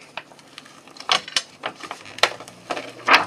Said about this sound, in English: And you remove the liner like this.